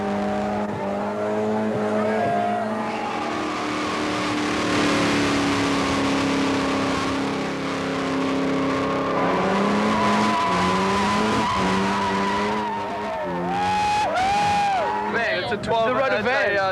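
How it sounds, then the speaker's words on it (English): A Toyota Hiace van with a 12A or 13B bridgeport rotary engine does a burnout on an Auckland street at night, tires squealing in long wavering tones over revving, while people talk nearby. "it just did a burnout in front of us on the road"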